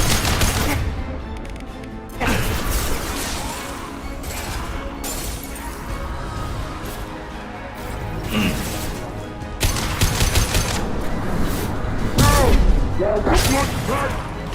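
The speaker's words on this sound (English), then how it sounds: "Firing a high impact shot." High impact gunshots in Mass Effect 2 crack out in several sharp, loud bursts amid ongoing game combat noise, with voices speaking over the action.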